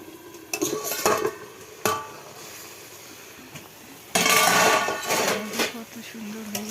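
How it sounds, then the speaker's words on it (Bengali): Mixed leafy greens with potato and eggplant stirred in a pan, irregular clattering scrapes of utensil on metal with louder bursts of sizzle and knocking, a voice briefly heard at moments. "আমি এবার হালকা করে নাড়াচাড়া করে এখন ঢেকে দেবো"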